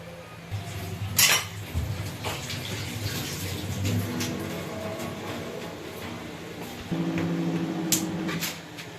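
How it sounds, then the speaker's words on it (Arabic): A metal pot clanks and scrapes onto a gas stovetop, with a sharp clatter early on, over a steady background rumble. "يلا نحط على البوتاجاز"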